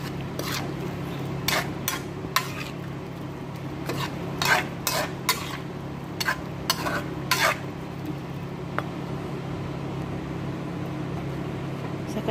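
Creamy shrimp is stirred in a pan with a metal utensil, giving repeated sharp scrapes and clinks in irregular bursts over a low simmering bubble, close and clear with no talk.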